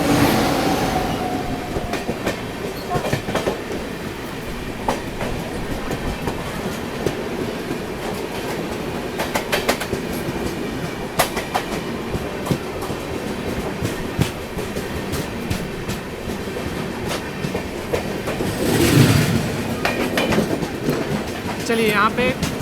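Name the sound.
Korba Kochuveli Express train departing, passing on rails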